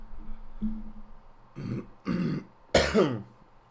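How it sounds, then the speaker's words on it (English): A few rough coughs and throat-clearing sounds, close and fairly loud, the last one harsher and longer, with no talking. "Bit of a cough today."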